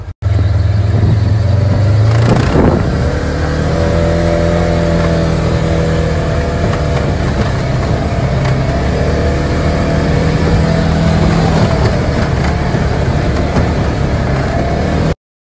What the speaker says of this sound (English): we're gonna drive that road up the mountain here now to just see how it is.